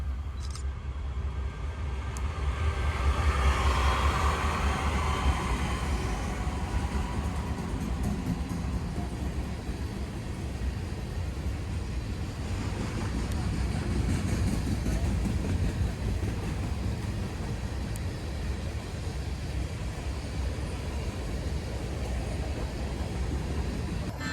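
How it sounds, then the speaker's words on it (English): A westbound unit grain freight train, Norfolk Southern 49A with trailing BNSF locomotives, rolls past as a steady, loud rumble that swells and holds for the whole stretch, with no one talking. "This train was a unit grain heading westbound, NS-49A."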